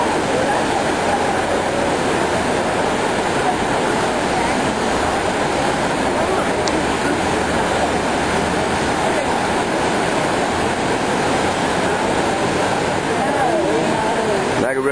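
A Niagara River jet boat with 1,500-horsepower Hamilton engines roars on the water, a continuous loud rushing drone with churning spray, and someone talks over it.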